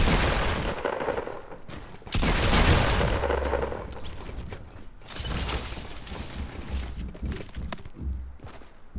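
Gunfire in the mobile battle royale game Fortnite Mobile, a dense mix of shattering cracks and booming shots with a heavy burst near the middle, set against continuous game noise.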